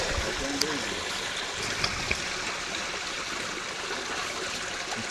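Water rushes steadily through a 160 mm sewer pipe during drain cleaning, a continuous broadband gush with faint clanks. A voice is heard briefly behind it.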